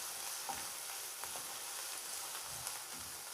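Chopped onions sizzling in a pan for upma, a close, steady frying crackle with occasional stirring scrapes and no talking.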